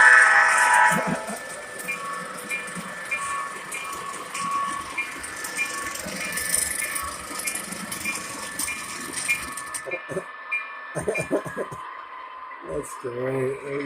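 A model train runs on a layout, its rumbling, clattering wheels and whistle-like tones mixed with people talking nearby, fairly loud and continuous with a busier stretch near the end.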